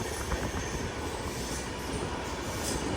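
Brindavan Express running between Chennai and Bengaluru near KR Puram, a loud, continuous close rumble of wheels on rails with a high, drawn-out squeal.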